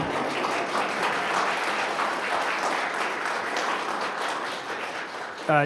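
A church congregation breaks into steady, sustained applause after a service reading, many hands clapping together from a near-to-mid distance, with a brief voice at the very end.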